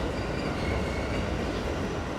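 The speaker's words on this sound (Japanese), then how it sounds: "横の高架を走る京急の音の方が、" A Keikyu train runs along an adjacent elevated track, heard as a steady, fairly loud broadband rumble and roar of rolling wheels with no voices.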